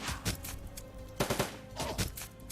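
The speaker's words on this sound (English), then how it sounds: "they're busy shooting at the turrets." Gunfire aimed at turrets in the tactical game Shadowrun Dragonfall, a series of quick clustered shot bursts at moderate loudness over a steady low background hum.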